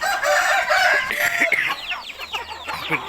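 Roosters and hens at a Thai fighting-cock farm, several birds crowing and clucking close by, overlapping calls rising and falling with no voices.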